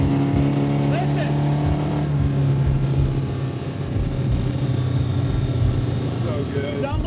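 A 900 hp supercharged six-wheel Chevy C10 truck roars steadily with a jet-like whine and a high-pitched supercharger tone, loud and sustained throughout, with people talking over it.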